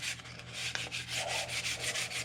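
Close, steady sanding on the wooden stock of a Lee Enfield .308 rifle during restoration, a continuous rhythmic scratchy rub with short back-and-forth strokes and no voices.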